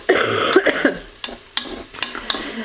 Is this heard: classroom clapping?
no